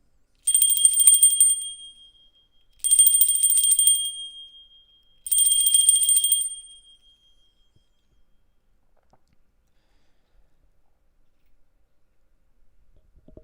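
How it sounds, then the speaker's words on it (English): A small high-pitched bell rung three times during an occult ritual mass, each bright ring sustained and slowly decaying, evenly spaced, followed by near silence. "See, it rises as I ring the bell."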